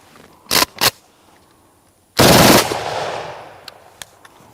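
An automatic firearm with a faltering action fires off its remaining ammunition: two quick short bursts, then a pause and one longer, loud burst of rapid shots that rings out and fades, followed by a few faint clicks.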